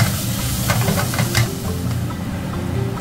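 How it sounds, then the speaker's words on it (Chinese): Minced pork is broken up and stir-fried in a pan over steady sizzling heat, giving a continuous close hiss with scraping spatula strokes. "把肉末弄碎，再继续翻炒"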